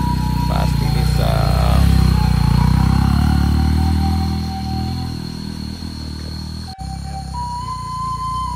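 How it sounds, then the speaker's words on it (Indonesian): A big motorcycle rolls along a flooded road, its engine droning steadily up close with splashing clatter, easing off partway through before the motor keeps running. "Kalau motornya motor yang gede kayak gini bisa."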